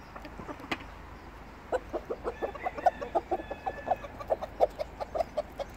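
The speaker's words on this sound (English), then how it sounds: "That noise you can hear is the boys calling the girls over." Roosters on a farm give a rapid, rhythmic series of soft clucks to call hens over to food, the pulses close together and moderately near, after a few scattered bird calls at the start.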